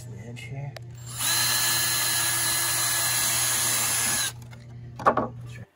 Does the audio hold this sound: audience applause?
no